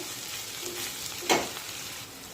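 Ghevda beans, already partly cooked, sautéed in a pan for a dry tiffin sabzi, giving a steady soft sizzle with one brief louder stir or scrape partway through.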